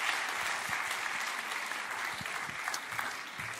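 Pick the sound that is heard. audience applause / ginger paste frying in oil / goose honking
audience applause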